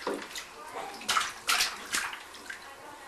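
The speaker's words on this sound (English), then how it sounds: "Splash, splash. Splash, splash." Water sloshes and splashes in a bathtub at home, a few bursts of splashing with quieter lapping between, fairly close, with a voice faintly present.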